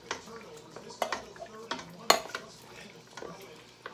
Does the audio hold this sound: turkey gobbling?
no